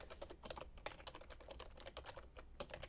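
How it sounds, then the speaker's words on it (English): Typing an email address on a computer keyboard: quick, light key clicks in an uneven stream, faint and close, with no voices. "For to, you type in the to email address"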